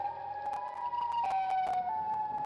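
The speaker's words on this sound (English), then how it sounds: "And you hear that siren head" A wailing siren in a video game holds a steady rising and falling tone, with sharp thumps and clicks breaking through it.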